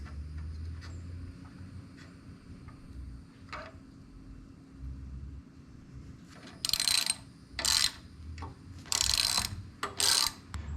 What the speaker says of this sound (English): And then reinsert the new bolt.